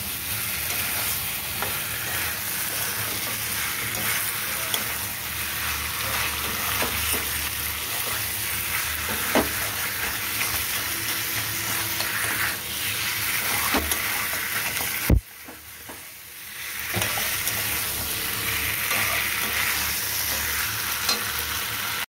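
Boal fish heads frying and being stirred into a spice masala, a steady close sizzle with scraping stirs throughout, briefly dropping out around midway before resuming.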